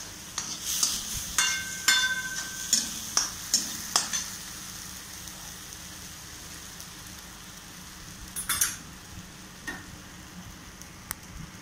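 Boiling water poured into roasted semolina (rava) for a sweet sooji appam, giving a burst of sizzling and crackling over the first few seconds, then a quieter simmer with a few more spits later on.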